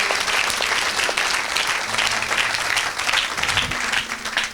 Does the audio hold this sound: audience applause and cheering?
yes